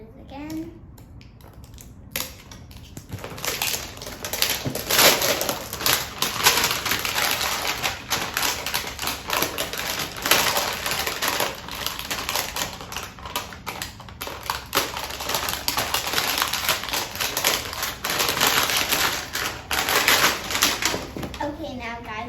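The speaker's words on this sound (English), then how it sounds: "Scissors again." Scissors snipping and tearing open plastic packaging on a toy unboxing, a run of crisp, close clicks and crinkles lasting most of the clip, with a voice briefly audible.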